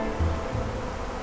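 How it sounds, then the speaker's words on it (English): European honey bees buzz around a beehive in a steady, close drone that fills the whole short moment, with no talk over it. "These gentle European bees are the ones that we keep for the pollination services."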